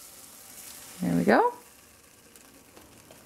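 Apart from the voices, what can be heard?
zucchini pancake batter sizzling in hot pan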